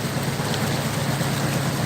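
Steady rain pours down during a flood in Makassar, a dense, continuous hiss of falling water with a low rumble underneath, close and constant with no voices.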